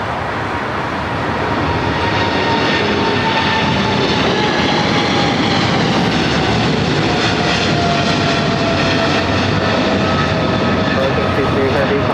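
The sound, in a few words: China Cargo Airlines plane taking off on runway 25 left at LAX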